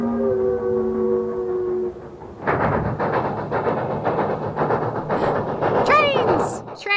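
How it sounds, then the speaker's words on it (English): A train whistle sounds in steady tones, then gives way to a loud rumbling clatter of a moving train, with a high squealing screech near the end. "Train! A railroad story."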